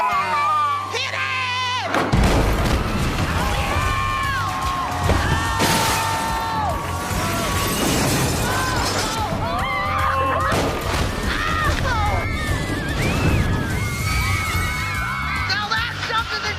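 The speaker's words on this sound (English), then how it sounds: "When I saw my house get torn down, I was just amazed." A house being torn down by heavy machinery, with repeated bangs, thuds and crashing smashes of breaking structure mixed with a cheering, shouting crowd and talk throughout.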